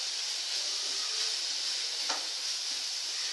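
Masala and chili powder sautéing in a pan for mixed dhal, a steady close sizzle and hiss of frying spices with a brief stirring scrape midway, no voices.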